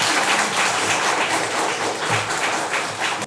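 An audience applauds at a lecture, a steady wash of clapping hands held for several seconds and fading slightly at the end.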